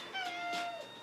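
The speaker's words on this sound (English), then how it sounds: "That's our cat, sorry." A pet cat meows indoors, one drawn-out, wavering cry that rises and then falls, fairly close and clear, with no talking over it.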